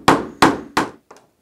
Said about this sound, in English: Use a hammer to secure your new ball head nails to the sill